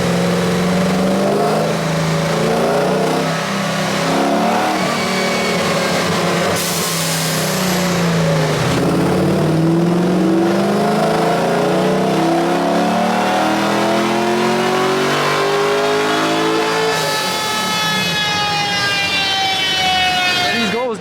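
A Mazda RX7 fitted with an LS V8 swap revs hard on a dyno, its loud engine note sweeping up and down in long pulls with a rising whine, close and continuous while a voice talks over it.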